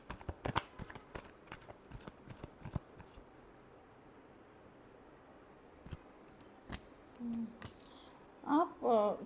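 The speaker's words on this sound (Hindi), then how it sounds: "last shuffle" Tarot cards being shuffled for a reading, a run of crisp riffling clicks and flicks up close at the start, then a quieter stretch with a few scattered snaps and brief bursts near the end.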